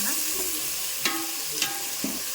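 Raw mango, onion, chili and tomatoes frying in a pan, a steady crackling sizzle broken by several scraping strokes of a spoon stirring the mixture, close and fairly loud.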